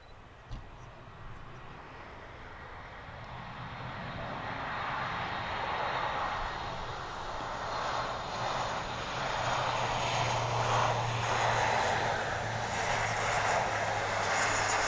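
Aircraft engines roar at RAF Mildenhall airfield, a broad steady jet rumble with a low droning hum that builds gradually and holds loud for the whole stretch, heard without talk.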